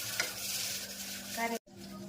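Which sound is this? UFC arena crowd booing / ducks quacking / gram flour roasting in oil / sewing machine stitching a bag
gram flour roasting in oil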